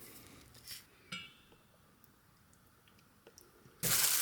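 Chicken is mixed with spices, salt, black pepper, Shao Xing cooking wine and soy sauce: a few soft clinks of utensil against bowl, quiet and close, ending in a sudden loud hissing burst.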